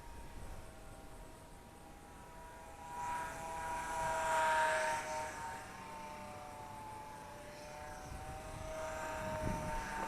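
An Eachine Mini P47 Razorback, a 500 mm wingspan RC warbird, flies overhead with a faint, thin electric propeller whine. The whine swells as the model passes near, then fades and returns against quiet outdoor background.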